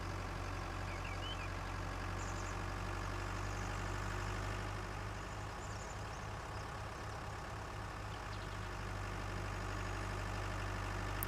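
A tractor in the Farming Simulator 19 video game runs with a steady, droning engine rumble at an even idle-like pitch, continuous and moderately loud for the whole stretch, with no voices over it.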